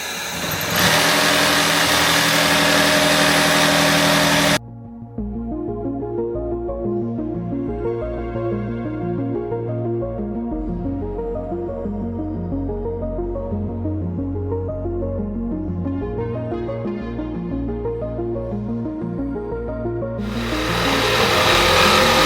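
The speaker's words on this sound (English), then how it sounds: "I'm going to see if I can run the vacuum while I'm using the jigsaw" A shop vacuum runs alongside a jigsaw cutting wood during a tiny home kitchen build in a Lowe's parking lot. A loud burst of rushing noise gives way to a steady, humming motor drone that swells again at the end.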